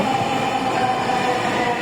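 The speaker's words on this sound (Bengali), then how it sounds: "আমাদের ট্রেন চলে এসেছে আমরা এখন ট্রেনের ভিতরে যাব" A Dhaka metro rail train rolls into the station with a continuous loud rumble and steady mechanical hum, no voices heard.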